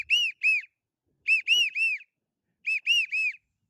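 Matt Pierce duck whistle pulled out slightly and blown harder in widgeon pitch, three bursts of two or three sharp whistled peeps each, clear and alone.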